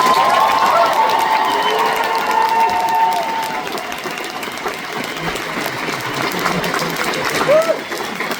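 Graduation audience breaks into a long, loud wash of applause with hoots and hollers, steady crowd clapping filling the room from start to finish with scattered shouts rising above it.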